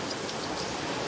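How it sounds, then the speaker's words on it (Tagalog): Heavy rain pours steadily outside while someone cooks at home, a dense continuous hiss of falling water with no breaks or voices. "Ang lakas ng ulan dito."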